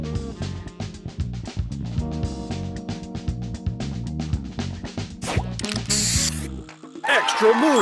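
Match Masters mobile game spray booster effect: a dense run of clicky, ratcheting game sounds over busy music, ending in a loud hissing spray burst near the end.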